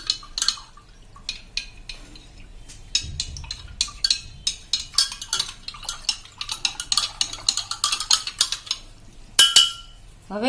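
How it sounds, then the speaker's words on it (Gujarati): A metal spoon clinks and scrapes inside a bowl as yeast-activated water is stirred in, producing quick, irregular ticks and taps that are close and crisp, with a soft liquid swirl beneath. "આ રીતે હલાવી લેશું."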